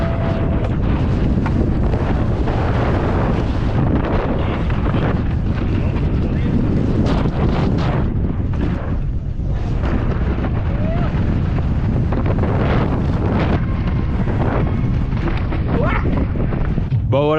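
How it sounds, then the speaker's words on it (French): Strong gusting wind buffeting the microphone at a dry mountain bike dual slalom track at Sea Otter 2023, a constant loud roaring rush with brief louder blasts throughout. "il y a du vent"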